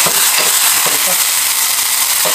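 Green onions sizzling loudly in hot oil in a wok over a very strong flame, a dense continuous hiss with scattered pops and clinks of stirring, close and intense throughout.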